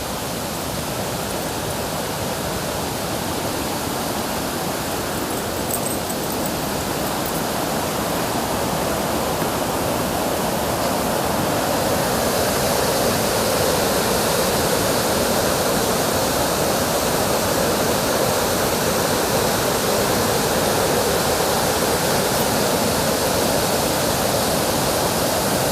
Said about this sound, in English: There's several different cascading waterfalls.